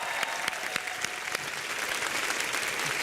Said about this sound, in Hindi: तो जोरदार तालियां ध्रुव के लिए